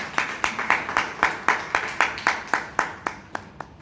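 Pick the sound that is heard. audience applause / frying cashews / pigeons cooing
audience applause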